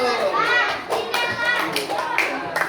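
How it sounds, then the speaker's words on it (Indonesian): Primary school pupils in an Indonesian maths lesson clap for two classmates. The quick, scattered hand claps run under lively children's voices and chatter throughout. "tepuk tangan buat Tari dan Fatur."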